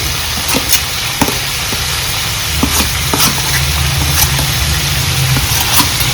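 Duck meat frying in hot rendered oil as chopped onions go into the pan: a loud, steady sizzle with scattered stirring clicks and scrapes throughout, no voices.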